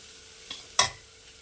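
Rice, lentils and spices fry on a low flame in a pan while khichuri is being made, giving a soft, steady sizzle with one or two brief stirring scrapes.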